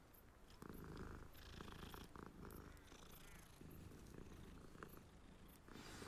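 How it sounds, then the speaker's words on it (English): A cat purrs steadily in the video game Hogwarts Legacy, a soft continuous rumble lasting several seconds with faint game ambience around it. "Oh, new cat. Must pet."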